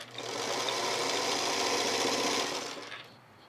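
A sewing machine runs steadily for about three seconds, stitching stretchy fabric cut from t-shirts, pajamas or leggings into a gaiter mask, its motor hum loud and close before it winds down.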